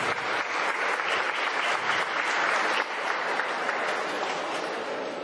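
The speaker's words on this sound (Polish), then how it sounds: "gorące brawa dla moich uczniów" Warm, dense applause fills a hall at a secondary school graduation ceremony, many people clapping together steadily and loudly from start to finish.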